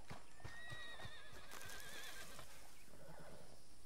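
A horse in Red Dead Redemption 2 lets out a wavering, high whinny over a few hollow clip-clop hoof taps, then the neigh trails off into quieter rustling.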